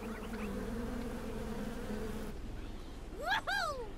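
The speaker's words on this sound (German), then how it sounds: "Die Bienen aus Pikmin 3." Bees buzz in the Super Mario Party Jamboree video game, a steady electronic drone followed by a couple of quick rising and falling chirpy swoops near the end.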